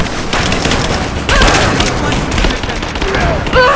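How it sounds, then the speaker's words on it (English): Loud close gunfire fills a firefight in the video game Rise of the Tomb Raider, a dense automatic fusillade that swells with a heavier blast partway through and keeps rattling to the end. "Suppressing fire! Throwing a grenade!"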